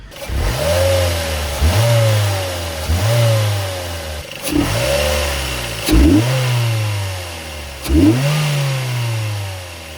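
A loud, throaty 2006 Mazda MX-5 NC1 engine with an induction kit revs repeatedly, five or six sharp blips rising and falling back to a rumbling idle, close by.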